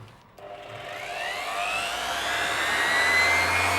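An InterTool WT-0542 eccentric sander starts up at its first speed setting, a motor whine that rises and spins up steadily into a continuous, fairly loud close drone.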